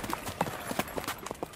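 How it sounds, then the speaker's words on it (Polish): Horse hoofbeats staged as a sound effect in a Polish radio drama about a galloping prince's horse, a quick, uneven run of clip-clop strikes at moderate loudness, with no voices over it. "czuje tętent jego konia"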